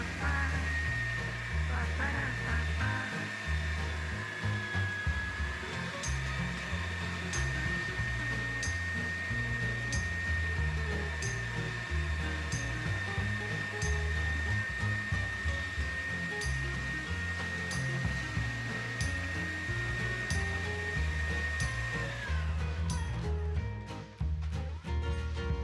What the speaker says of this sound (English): Once all the cubes have passed through the grinder, we'll put a handful of ground meat in to push them through